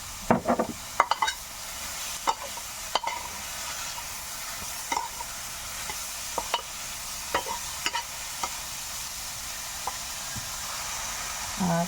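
Stir-fried food sizzling in a pan after oyster sauce goes in, a steady soft hiss broken by repeated sharp scraping clicks of a spatula or ladle against the pan, close and fairly quiet.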